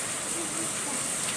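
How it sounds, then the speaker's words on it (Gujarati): Steady rain falls throughout, a constant broadband hiss with no breaks and no voices. "વરસાદ આવ્યો કે"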